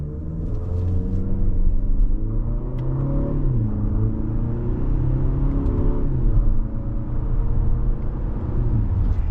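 A 2025 Infiniti QX60 Pure AWD with a 9-speed automatic accelerates hard under paddle shifts, its engine droning up in pitch and dropping at each gearchange, close and steady inside the cabin with no talking.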